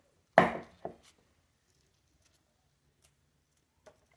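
A knife cuts an onion into big pieces on a board: one sharp, close chop, a lighter second chop right after, then a few faint taps in near silence.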